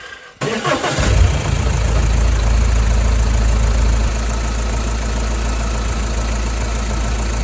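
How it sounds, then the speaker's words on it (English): An Audi A4 B8 diesel engine cranks and catches, then settles into a steady, loud rumbling idle that continues close by. "I want to start the engine, make sure everything's running normal and sounds okay"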